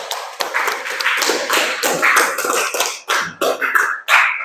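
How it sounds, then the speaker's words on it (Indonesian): A classroom applauds a student group after their presentation, with loud, dense clapping from many hands that runs steadily and breaks into a few choppy bursts near the end. "Ya, tepuk tangan dulu."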